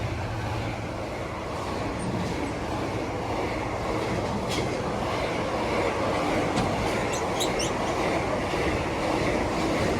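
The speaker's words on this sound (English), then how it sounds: "we're going to have a freight from Darlington Moor to Daventry running about 13 late" Freight train passing at Watford Junction, a steady loud rumble of wagons with faint wheel squeals and clicks, heard alone without talk.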